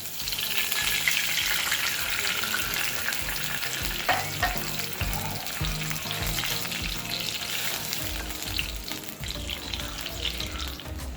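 Water poured into a sizzling mustard-seed and green-chilli tempering in a kadai, with loud bubbling fry noise, splashing and stirring scrapes carrying on steadily, no talking.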